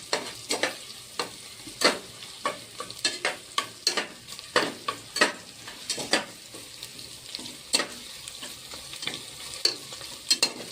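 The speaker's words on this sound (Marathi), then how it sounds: "आधी कांदा भाजून घेते मी, नंतर हे अद्रक आणि लसूण भाजून घ्यायचं" Onion, ginger and garlic are roasted in a pan for khichdi while a spatula stirs them. Sharp, regular scraping strokes, roughly two per second, cut through a soft, steady sizzle, close and clear with no talking.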